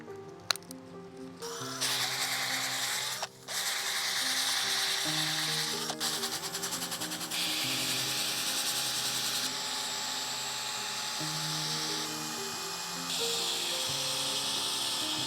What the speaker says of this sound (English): So just a electric drill.